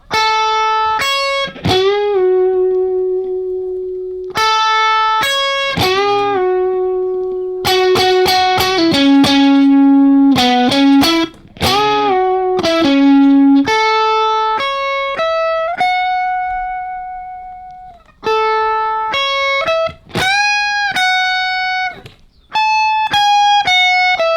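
Electric guitar played through effects, picking out a song's riff as clear sustained single notes and short phrases with brief gaps between, loud and close with no talking.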